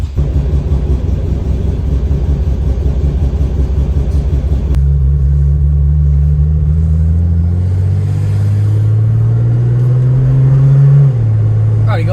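A Nissan R31 Skyline with a turbo RB30 engine runs just after a cold start, a loud, close, steady idle rumble whose pitch shifts partway through and then wavers, with no speech over it.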